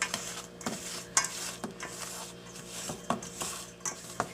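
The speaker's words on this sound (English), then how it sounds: "Keep scraping down the bowl." A spatula scrapes down a mixing bowl of homemade buttercream frosting, making rhythmic scraping and soft squishing strokes with sharp clicks against the bowl, close and fairly quiet.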